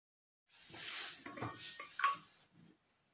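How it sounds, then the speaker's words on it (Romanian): Metal lids go onto glass jars of sugar-free peach jam still steaming from sterilizing, giving a short close run of clinks, scrapes and one sharp ring, then quiet. "Acum pun capacele."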